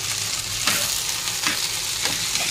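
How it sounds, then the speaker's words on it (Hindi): Okra (bhindi) frying in a pan gives a steady close sizzle with soft scrapes of stirring every half second or so, no voices. "तो हम लोग ने इधर भिंडी भूनना चालू कर दिए"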